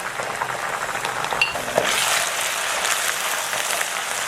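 Ginger and garlic paste dropped into hot oil with browned onions in a pan for chicken biryani, a steady loud sizzle that swells after a brief stir and clatter of a spoon, no voices.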